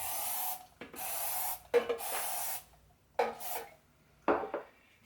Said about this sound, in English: I'm going to spray the pan with no-stick spray